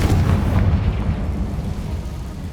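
The Confringo fire spell goes off in Hogwarts Legacy with a deep, booming blast, loudest at the start and then rolling into a long, slowly fading rumble, with no voices.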